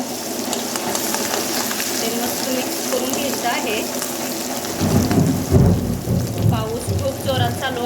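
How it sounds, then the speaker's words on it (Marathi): A thunderstorm rumbles outdoors, with steady rain and rolling low thunder that swells louder in the second half, heard behind cooking sounds as coconut, garlic and ginger paste go into hot oil. "तुम्हाला ढगाचा आवाज पण येत असेल वीज कडकडत आहे"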